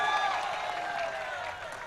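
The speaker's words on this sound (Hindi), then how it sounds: "थोड़ा सांस लेने के लिए ताली बजा दो" A steady wash of applause from a crowded mushaira audience in Gorakhpur, sustained and fairly even throughout, with a faint tonal ring or voice trailing over the clapping.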